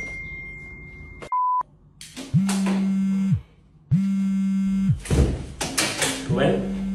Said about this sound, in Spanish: ¿Será que el señor le puede quitar ese sonidito a su teléfono?